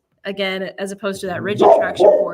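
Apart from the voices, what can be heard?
dog barking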